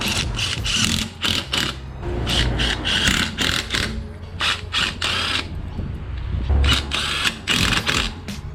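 Wheel nuts on a Nissan Silvia S15 front wheel being run down with a ratcheting tool, repeated bursts of rapid mechanical clicking and whirring, close and loud, separated by brief pauses.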